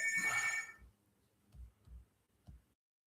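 An early-morning phone call rings in a quiet room, one short electronic ring at the start, then a few soft low thumps in near silence.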